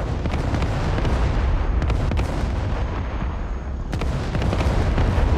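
Artillery fire and explosions in the video game Broken Arrow, a dense rumbling barrage with several sharp blasts punching through a continuous roar, loud and close.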